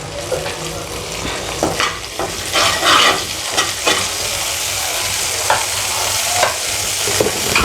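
Cumin and mustard seeds fry in hot ghee in a pan, producing a dense, continuous close sizzle with bursts of crackling and sputtering and a few stirring scrapes, with no one talking.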